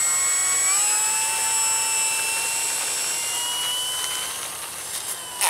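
A Hobby King Spitfire Mk5 RC model plane's electric motor screams at takeoff, a loud sustained high whine that rises in pitch and then holds steady.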